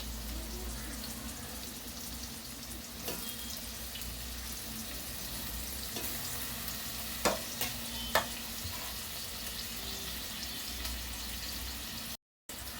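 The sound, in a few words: onions, curry leaves, green chillies frying in oil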